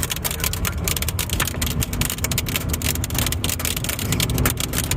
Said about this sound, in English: This semi is showering us in soybeans right now.